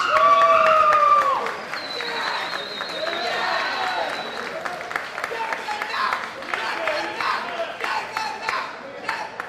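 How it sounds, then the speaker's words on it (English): Crowd at a bare-knuckle fighting championship weigh-in breaks into loud applause and cheering, whoops and shouts rising over sustained clapping for several seconds, with an announcer's voice and scattered tones mixed in. "Let's give him a round of applause."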